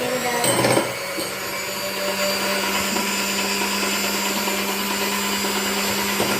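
An electric mixer beats biscuit mixture for kisses biscuits, a steady loud whirring motor hum with a clear constant tone, preceded by a brief clatter at the start and running alone without talk.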